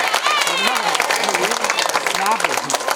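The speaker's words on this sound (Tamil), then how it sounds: "கைத்தட்டி அவங்களுக்கு இருக்க வாழ்த்துக்களும் நன்றியும் நீங்க சொல்லுங்க" An audience applauds at a three-fold celebration at a panchayat union primary school in Ayanathur, Ariyalur district: a dense, continuous patter of clapping, with someone talking over it throughout.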